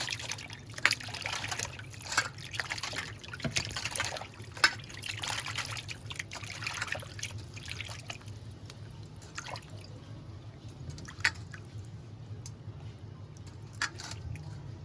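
Small fish, already scaled, being rinsed two or three times in water: steady dripping and trickling with soft splashes and squishy handling sounds, close by, with no talk.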